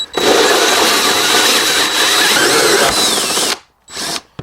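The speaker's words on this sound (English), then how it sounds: "And I'm just going to drill it." A power drill drives a 2-inch hole saw through a van floor while a shower drain is installed, a loud continuous whirring grind that runs steadily, then cuts off and restarts briefly near the end.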